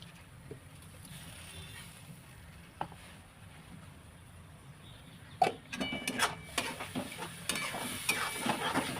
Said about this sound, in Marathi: वाटण तेलामध्ये व्यवस्थित भाजून घ्यायचं